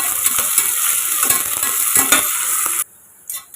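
Onions and a chilli sautéing in a pan sizzle loudly while a spatula scrapes and taps in quick strokes, before the sizzle cuts off and a brief clink follows.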